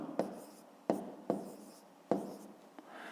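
Writing strokes from numbers being written down during a fifth-grade maths exercise: four or five short, distinct scratches, each fading quickly, spaced irregularly and close by, with no talking.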